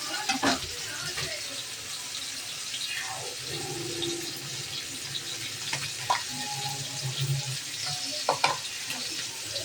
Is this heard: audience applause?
no